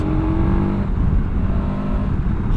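KTM 1290 Super Adventure R motorcycle, a 2024 model, with its engine pulling hard under acceleration on a street ride, a loud steady near roar with no voices.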